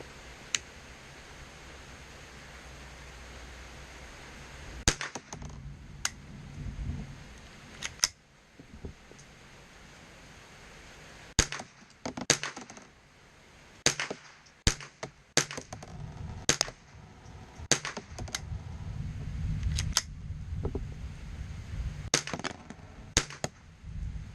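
Sharp, sudden cracks of a Marlin .22LR rifle being fired, about a dozen spaced shots, some in quick clusters, with quieter handling and rustling between them.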